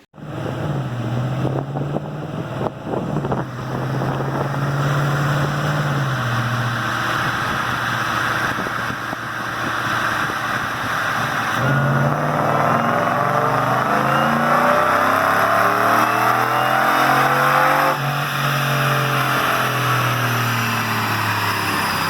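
A supercharged 2017 Ford F-150 Roush Nitemare on a stock Roush tune pulls hard through third gear toward about 6,500 RPM. Its loud engine note climbs and falls repeatedly between gear changes, under heavy wind noise.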